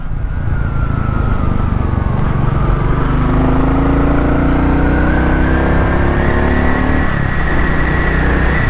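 A Royal Enfield Classic 350 motorcycle accelerating on the road, its engine rising steadily in pitch under loud continuous wind and road rumble, with no voices.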